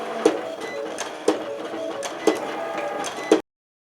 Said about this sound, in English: notice now the sound of the Silhouette Cameo